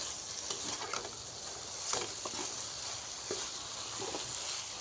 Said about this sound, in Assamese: এনেকৈ ৩-৪ মিনিটমান সময় মই গেছৰ ফ্লেমটো কমাই ভেন্দিখিনি মছলাখিনিৰ সৈতে ভালকৈ ভাজি ল'ম।